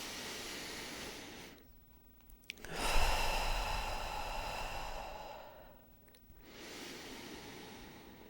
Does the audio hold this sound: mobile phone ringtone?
no